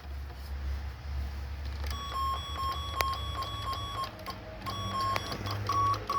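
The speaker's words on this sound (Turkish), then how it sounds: "Daire kapının zili değişmiştir" An apartment door's electronic doorbell, wired through the intercom, rings in repeated bursts of bright, steady tones over a low background hum, sounding close and moderately loud.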